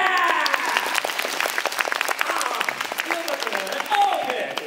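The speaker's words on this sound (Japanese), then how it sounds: "自分で拍手" Theme park show audience at Universal Studios Japan claps for themselves, a dense, even patter of applause with cheering voices and an MC's talk mixed in.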